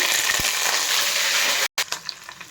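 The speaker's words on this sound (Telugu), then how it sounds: "ఇప్పుడు వేసుకుందామండి అల్లం వెల్లిపాయ పేస్ట్ వేస్తున్నానండి" Ginger garlic paste frying in a pan for bagara rice, a loud, even sizzle with stirring scrapes that cuts out briefly and then returns more faintly.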